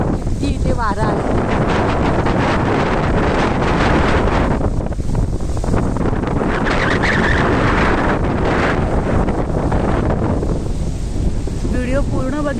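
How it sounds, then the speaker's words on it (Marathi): Strong wind by a creek behind a coastal house with coconut palms roars steadily and loudly into the microphone throughout, buffeting and rumbling with no letup, nearby water faintly mixed in. "माडांकडे बघून तुम्हाला कळलंच असेल की किती इथे वारा आहे।"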